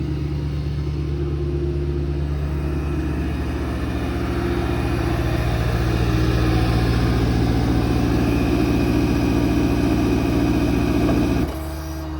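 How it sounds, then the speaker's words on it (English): Air compressor on a 2024 Ford F550 4x4 mechanics truck with a Stellar service body, running as a steady loud low rumble and hum that builds slightly, then cuts off abruptly near the end. "You just pull down on the auxiliary function switch here, that bottom switch. The compressor comes on."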